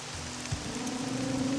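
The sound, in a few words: rain falling, from video game Morrowind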